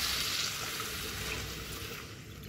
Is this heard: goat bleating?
no